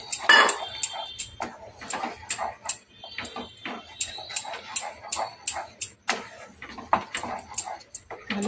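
A spoon stirs semolina upma in a pan on low heat, giving rhythmic metallic scrapes and clinks against the metal, sharp and close, repeating steadily.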